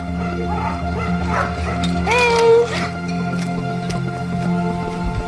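Dogs at a remote lodge on Lake Tagish, home to 21 dogs, give yips, whines and a howling call over a steady background hum, fairly close and mixed with other noise.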